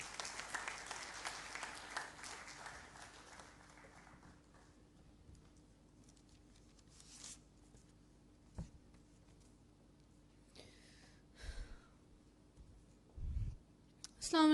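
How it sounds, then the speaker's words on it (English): Audience applause at a school speech event, a broad burst of clapping in the opening two seconds that fades quickly, leaving a quiet room with scattered knocks and shuffles. "let's give her a big round of applause"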